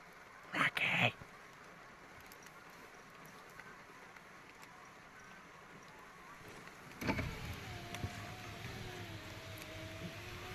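Electric motor of a car's power window whines as the window slides down inside a parked car, faint and steady, with rain noise outside and a short louder burst early on.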